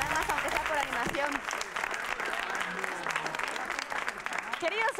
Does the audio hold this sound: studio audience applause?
yes